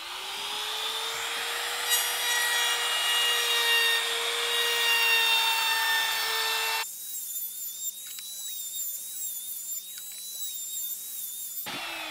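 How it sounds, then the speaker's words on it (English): A laminate trimmer with a small 1/8 round-over bit routes the top edges of wooden shelf nosing, a close, loud high whine with cutting rasp for about seven seconds before cutting off into a quieter room. "I'm going to just round over the top two edges with my little 1/8 rounder on my laminate trimmer"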